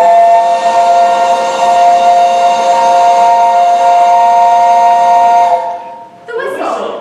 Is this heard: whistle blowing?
yes